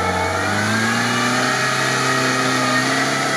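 A Lada Niva engine revs hard while driving off-road on a rough tank track, a loud steady drone with rising and falling harmonic whine and no pauses.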